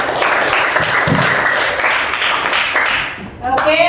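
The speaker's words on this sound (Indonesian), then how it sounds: "Kelompok yang lain berikan aplaus kepada kelompok yang keempat" A classroom of students applauds the fourth group, steady clapping filling nearly four seconds at close range, with a brief dip and then a renewed burst near the end.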